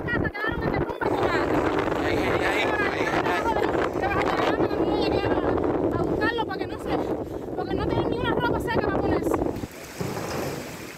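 Hurricane Ian's storm winds roar as a constant broadband rush across Havana, Cuba, with gusting surges and a voice talking over the howl almost the whole time.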